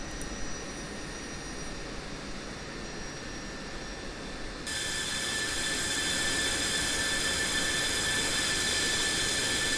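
An F-16 jet engine in the DCS video game idles and hums steadily while the aircraft taxis toward the runway, the broadband roar stepping up louder about halfway through and then holding constant, with no talking.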